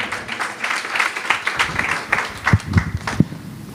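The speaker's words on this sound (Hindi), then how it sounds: "प्लीज़ जोरदार तालियों से उसका स्वागत कीजिए" Audience applause welcoming a speaker onto the stage at a business chamber event on agriculture and import-export, a moderate scattered clapping that rises toward the end with a few sharp near claps.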